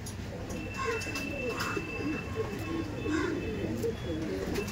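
Royal teddy pigeons cooing in a loft, soft low rolling coos repeating steadily and overlapping close by, with a faint high whine in the background.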